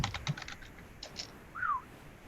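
Soft clicks of typing on a computer keyboard come through a call microphone, a few scattered keystrokes heard faintly and close against low background noise.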